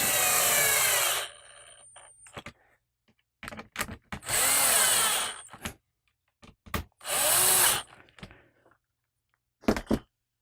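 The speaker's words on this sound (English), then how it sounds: "I'm just sending home the last of these screws" A power drill drives screws into the wooden frame of a stained glass backlight panel, with three loud whirring bursts of a second or two each, separated by quiet gaps and small clicks and taps.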